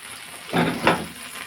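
Brown rice with mint leaves and ginger garlic paste fries in a pan, two short bursts of sizzling and stirring rising over a low steady hiss.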